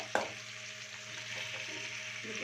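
Cut potatoes drop into a hot frying pan, a single burst of impact at the start giving way to a steady sizzle of frying that carries on without pause.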